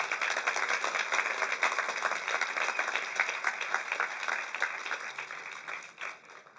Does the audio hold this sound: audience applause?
yes